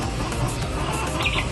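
An Indio Gigante pullet, a large chicken, gives soft clucks close by, brief and faint over a steady low background hum.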